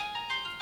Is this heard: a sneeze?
no